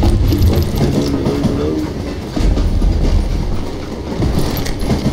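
A train rolls along in the Call of Juarez: Gunslinger game, a loud, continuous rumble with rattling wheels and clanking cars close by, no speech.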